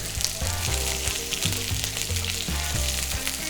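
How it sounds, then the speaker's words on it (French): Pigeon breast supremes sear skin-side down in a hot pan with a loud, continuous sizzle and crackle, punctuated by a few soft rhythmic bumps of the pan. "J'ai commencé par mettre les suprêmes sur la peau pour les colorer"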